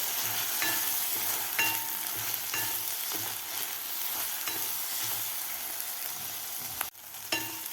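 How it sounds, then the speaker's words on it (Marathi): Chopped tomatoes sautéing with chilli and ginger-garlic paste in a pan for dry onion shev bhaji, a faint continuous sizzle broken by light, regular stirring taps and one sharper knock near the end. "आता यामध्ये घालायचं आपल्याला कापून घेतलेलं टोमॅटो टोमॅटोसुद्धा आपल्याला व्यवस्थित परतून घ्यायचा आहे"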